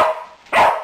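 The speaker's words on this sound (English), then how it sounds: "He's not listening when you just bark at him." A single sharp, close dog bark during a herding session between a Wire Fox Terrier and a Border Collie, after a brief softer whine.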